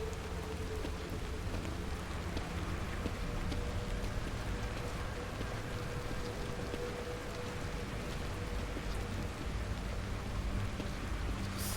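Steady rain falls in the survival horror game The Evil Within, a dense, even hiss of drops on surfaces that continues unbroken and fairly loud throughout, with no voices over it.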